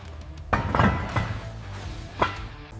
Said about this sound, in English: the mechanic attempting to free the heavily corroded drum using a heavy hammer